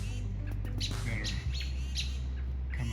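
Robins and other birds call in sharp, repeated chirps while mobbing a hawk, the calls fairly close and clear over a constant low rumble of wind or traffic.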